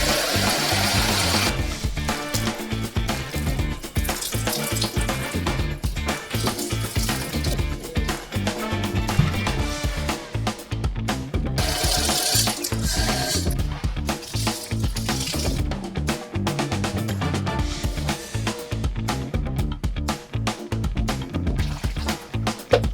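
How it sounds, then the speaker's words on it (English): Water runs steadily from a bathtub tap as a dirty disc golf bag is rinsed, with splashing and sloshing throughout and a few short breaks in the flow. "now it's time to take it to the bathtub and get it all rinsed off"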